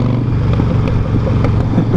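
A Harley-Davidson Sportster Roadster motorcycle engine runs steadily through short gear shifts, giving a close, continuous low rumble with a slight lumpy rhythm and no voices.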